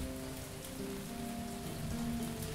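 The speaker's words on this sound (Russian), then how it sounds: "Почему дождь внутри, я не пойму." Rain falling inside a castle in the video game Castle Flipper: a steady, dense patter of raindrops over faint tonal background music, continuous and unbroken with no speech.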